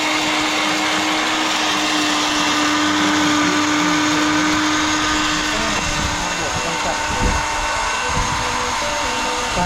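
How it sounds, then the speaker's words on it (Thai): A 600-watt blender grinding chili while running on a portable PI-1500 solar power box, with a loud, steady motor whine and churning throughout, and some voices faintly beneath it. "ใช้เครื่องปั่นขนาด600วัตต"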